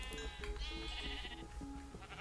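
Sheep bleating on a video game farm, several short wavering bleats in quick succession over a steady background of game music and ambience.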